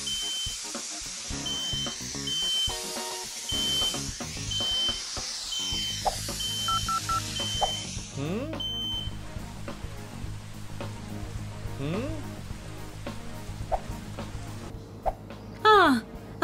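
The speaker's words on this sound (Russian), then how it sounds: "Я всего лишь запрограммировал сигнализацию" An alarm system in a Russian-dubbed animated scene gives a steady repeated beeping tone through the first half, set among busy cartoon sound effects and music, with faint sweeping tones later on.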